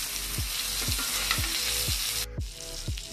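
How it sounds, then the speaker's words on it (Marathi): Jitada fish frying in hot oil, a steady loud sizzle with regular soft knocks or stirs about every half second and a brief pause near the end, no voices. "आता या साईडची पण दुसऱ्या बाजूने पण चांगलं तळून घेऊया."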